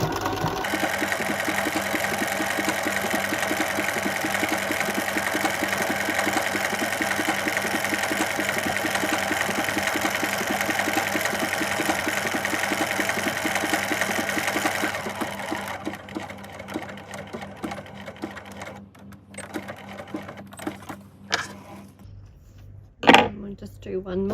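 A sewing machine stitches rows of a big decorative cross stitch on a gift card holder, running as a fast, even mechanical whir that then breaks into shorter bursts and stops, with a voice talking over the later part.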